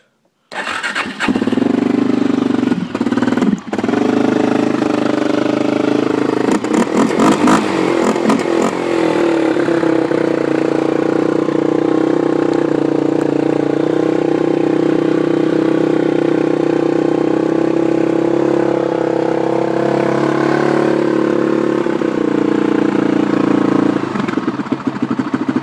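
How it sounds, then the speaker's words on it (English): A Kawasaki KFX400 ATV cold-starts on choke after a few cranking bursts, then settles into a loud, close, steady idle that runs unbroken to the end. "KFX always starts right up with the choke."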